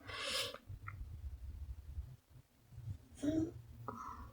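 A cat in a home makes two faint, short calls, one near the start and one near the end, over quiet low rumbling room noise.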